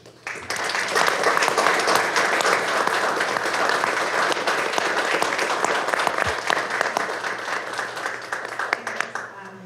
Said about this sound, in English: Join me in a round of applause for the 90th anniversary of Greer Relief Resource Agency.